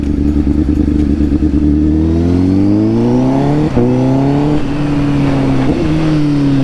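A sport motorcycle engine revs up steadily, its pitch climbing and holding at a loud, close growl with brief throttle blips near the end.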